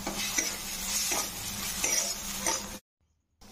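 Kashmiri red chili powder and ginger paste fry in a pan for a Bengali small-fish dish, a close, bright sizzle with repeated scraping stirs, then a sudden cut to near silence.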